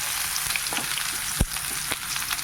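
Spice-rubbed dried shark frying in a pan, giving a steady close hiss and crackle throughout with one sharp pop partway through and a few smaller spits, no voices.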